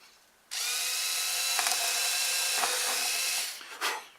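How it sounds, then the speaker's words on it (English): Power drill boring a hole through a thick rudder on a Phoenix Models Genesis model plane, a steady high-pitched whine lasting about three seconds that starts abruptly and cuts off, followed by a couple of brief knocks. "We're going to drill this hole through."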